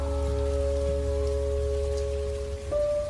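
Rain falls steadily on a dark night, a continuous hiss with steady droning tones layered over it and no voices.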